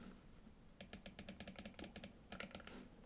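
Close, quick keystrokes on a computer keyboard type a title, clicking in fast bursts with brief pauses and no voices over it.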